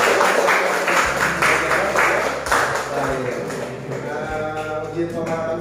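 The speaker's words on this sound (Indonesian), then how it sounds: "Tepuk tangan untuk kita semua." A group of teachers or students applauds together in a classroom coaching session, a full burst of clapping at the start that carries on beneath voices and a low steady hum.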